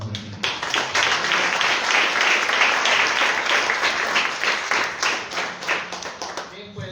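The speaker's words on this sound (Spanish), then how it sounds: "Denle una ofrenda de palmas." A church congregation applauds together after a prayer, a dense burst of clapping that holds steady for several seconds and then tapers off, close and lively.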